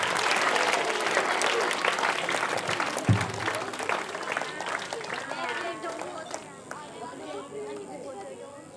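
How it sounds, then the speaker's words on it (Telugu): Crowd clapping at a school chess board set distribution event in Vellulla, Jagityala district, steady dense applause with chatter and a voice mixed in throughout. "క్లాప్స్."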